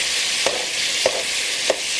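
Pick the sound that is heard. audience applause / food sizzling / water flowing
food sizzling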